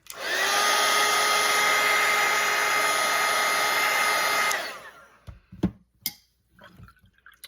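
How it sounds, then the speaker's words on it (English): A hair dryer blows loudly and steadily for a few seconds over wet watercolor paint, then shuts off, leaving a few soft taps and handling sounds. "I just gave it a little bit of hit of the dryer just so it didn't spread too much"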